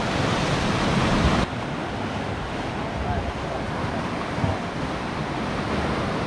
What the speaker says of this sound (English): Oh, look at this, all of these rocks here. Wow, and these waves, it's beautiful.